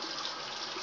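Tap water runs steadily into a bathroom sink for a face wash, a constant close rushing stream with no talking.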